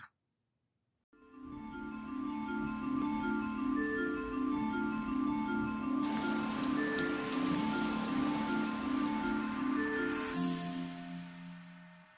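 Rain pours steadily during a thunderstorm, a dense hiss of falling drops that starts suddenly and holds for about ten seconds, blended with sustained musical tones and fading slightly at the end.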